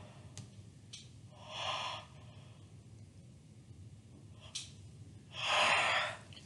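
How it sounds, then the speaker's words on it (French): A woman yawns twice, each a drawn-out breathy exhale. The first comes early and softer, the second near the end, louder and longer. Faint clicks and quiet room tone fill the gap between them. "ils m'ont déjà commencé à me faire bailler avant la vidéo"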